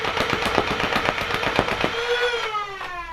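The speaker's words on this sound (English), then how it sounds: "Right, I'm going to do a mag dump, so that's full 18." Modified Nerf Rapidstrike blaster on 2S firing a full-auto magazine dump of 18 darts at a backstop: a rapid even burst of sharp clacking shots over a motor whine, ending as the flywheel motor spins down alone.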